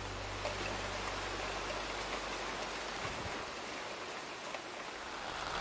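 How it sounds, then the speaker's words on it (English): Heavy rain hammers steadily on a tent at a campsite in Waterton Lakes National Park, a dense, even patter close by, with a low rumble fading out partway through and no talk. "As you can hear, it's raining really hard right now."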